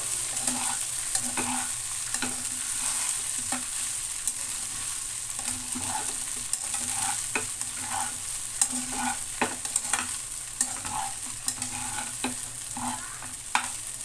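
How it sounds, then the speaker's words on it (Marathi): Sabudana sautéed in a pan with salt and crushed peanuts, stirred steadily with soft scraping strokes and occasional spoon taps over a constant low sizzle, close and continuous. "ये साबुदाणा त्याला परतून घेऊया मस्तपैकी"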